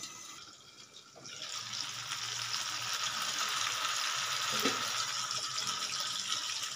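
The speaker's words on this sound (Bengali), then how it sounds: "একটু ঢাকা দিয়ে দিব তাহলে খুব ভালো মতো সিদ্ধ হবে যেহেতু মাছটা অনেক বড়" A large fish fries in oil in a pan covered with a lid, giving a steady, dense sizzle that swells after a brief quieter moment and holds loud and continuous.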